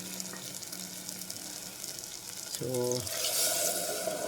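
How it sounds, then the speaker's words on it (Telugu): Water is poured into a pan of frying Andhra-style stuffed brinjal curry with onion and tomato, a low sizzle giving way to a louder burst of hissing as the water hits the pan; a voice says a brief word. "మనము ఈ టైంలో వాటర్ని యాడ్ చేసుకోవాలి"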